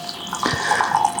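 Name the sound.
pouring milk onto oats for pre-workout meal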